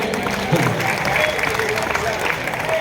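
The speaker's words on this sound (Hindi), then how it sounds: "मेरी एक बार जरा ताली बजा दीजिए भैया" Audience clapping at a kavi sammelan poetry recital in Jabalpur, a steady dense wash of applause from a crowd that lasts a few seconds without a break, full and close.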